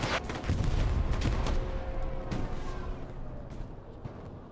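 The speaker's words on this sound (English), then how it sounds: "Boom. Explosion." A precision strike explosion in the video game Hell Let Loose lands during a competitive match, a heavy booming blast followed by rumbling, crackling aftershocks that slowly fade over several seconds.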